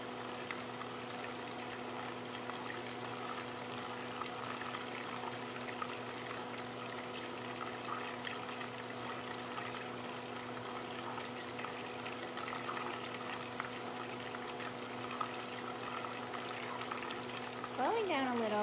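Brown butter bubbling and sizzling steadily in a pan, a continuous close crackling fizz that holds at an even level throughout, with a faint voice near the end.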